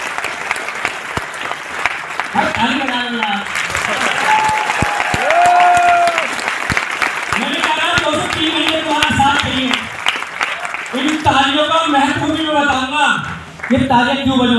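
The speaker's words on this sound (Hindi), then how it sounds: "ताली बजा लेना।" Audience in a hall at a company celebration event bursts into applause and cheering, loud and sustained across the whole stretch, with voices and shouts mixed in over the clapping.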